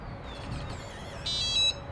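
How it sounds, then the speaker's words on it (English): A short electronic beep from a wireless RV latch lock rings out twice in quick succession, bright and close, over a low background hum. "Now I'll press the lock button on my fob. And that beep should be all it takes."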